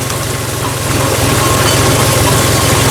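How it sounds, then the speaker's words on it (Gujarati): A farm tractor runs in third gear at a slow throttle setting, its engine a loud, close, steady low rumble with an even pulsing drone throughout. "મિત્રો આ 3જા ગેરમાં ટ્રેક્ટર હાલે જોવો તમે"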